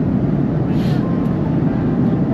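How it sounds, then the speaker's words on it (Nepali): Steady cabin roar inside an airliner descending toward landing near the end of a ten-hour nonstop flight, a continuous low rumble with an even hiss, unbroken for the whole stretch. "ल अब उकालो प्लेन चाहिँ ओह्रालो लाग्नु थाल्यो है।"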